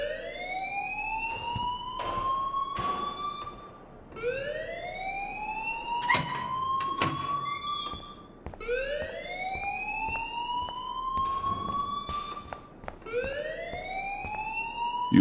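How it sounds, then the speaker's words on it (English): Video game alarm wailing in repeated rising sweeps, each rising tone lasting about four seconds, loud and continuous, with a few sharp clicks and thumps mixed in and no voices. "please turn off that alarm since that's your job"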